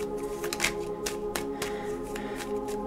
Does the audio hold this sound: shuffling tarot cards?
yes